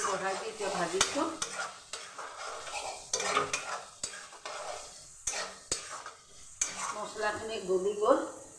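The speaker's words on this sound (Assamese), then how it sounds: "জুইটো বঢ়াই দি এতিয়া ভাজিছোঁ" Masala with onion and tomato sizzles and fries in a pan over raised heat, with a utensil repeatedly stirring and scraping, clinks of cookware, moderately quiet and steady.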